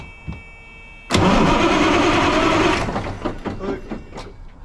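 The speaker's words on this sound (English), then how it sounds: "Right, give it another crank." A Peterbilt truck engine cranks with a loud, sustained broadband roar for about two seconds, then drops into quieter, uneven chugging and sputtering as it tries to catch, heard close up with no talking.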